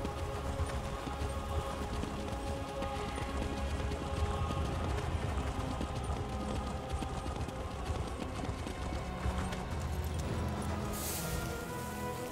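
Steady clip-clop of horse hooves trotting along a mountain path in The Elder Scrolls Online, a soft, even rhythm kept up throughout beneath quiet ambient game music.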